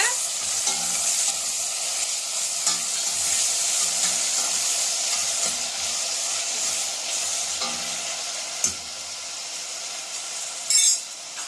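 Browned onions and tomato frying in oil for South Indian sambar, a loud continuous close sizzle with occasional spoon scrapes and a clink or two.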